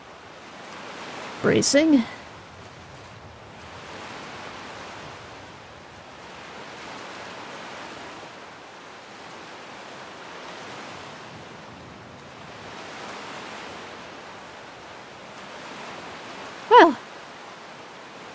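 Ocean surf washes steadily in Skyrim, a continuous soft roar of waves rising and falling in slow swells, with someone speaking briefly at the start and again near the end.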